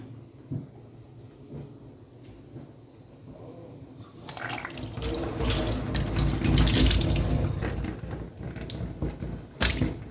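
Kitchen tap water gushing through a sausage casing pulled over the faucet for cleaning, starting after a few quiet seconds and running loud and splashy to the end.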